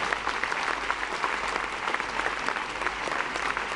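Audience applause at a French stand-up comedy show, dense and steady clapping from a full crowd filling the room throughout, loud and close with no voices over it.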